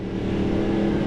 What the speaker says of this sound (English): Take care, there's a car approaching.